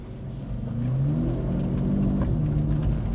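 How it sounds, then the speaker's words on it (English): A car driving on a road, a steady close engine rumble and road noise that swells slightly as it speeds up, with no talk. "Yeah, the car drives all right."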